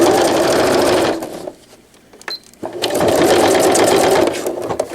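Sewing machine stitching hook-and-loop velcro onto a cloth diaper: a fast, loud mechanical chatter runs, stops for about a second of near quiet with small handling clicks, then starts again and continues steadily.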